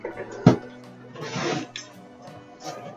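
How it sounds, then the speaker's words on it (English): A few short hissing sprays of water from a spray bottle, one quick burst followed by a longer spritz, close and fairly soft. "I used to use this bottle for essential oils, so I spray it"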